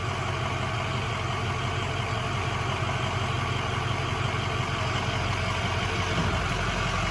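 A Ford 6.0 Powerstroke diesel pickup truck fitted with an MBRP 5-inch straight pipe exhaust idles in a steady, continuous low rumble close by, with no talking over it.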